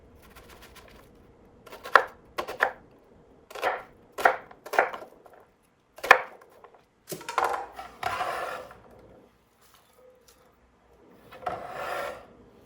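A knife cuts food into big chunks on a board, with a series of sharp, separated chops and scraping strokes, close and clear, with quiet pauses between them.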